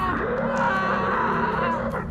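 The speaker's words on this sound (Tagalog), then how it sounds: "Kasunod ang malakas na sigaw ng isang lalaki." A man lets out one loud, sustained scream lasting about two seconds.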